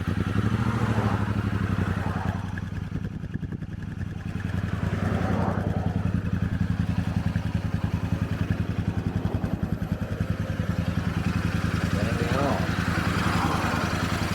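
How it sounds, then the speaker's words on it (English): A Royal Enfield Super Meteor 650 motorcycle engine idles close by with a steady, rhythmic exhaust throb that holds at a constant loudness throughout. "So, see if I can get the engine noise, the exhaust noise."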